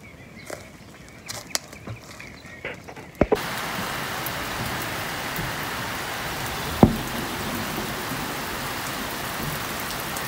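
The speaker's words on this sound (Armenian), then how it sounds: "անձրևը վրա կալավ" Steady rain pours down outdoors, a dense, even hiss that begins after a few seconds of scattered knocks and work noises and then continues loud and unbroken to the end.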